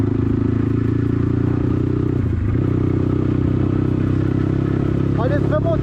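BTC T18 motorcycle ridden slowly on its first ride after a first oil change, a steady low engine drone throughout with clattering and wind noise, someone talking over it.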